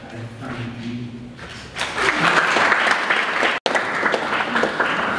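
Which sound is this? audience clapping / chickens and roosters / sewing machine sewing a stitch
audience clapping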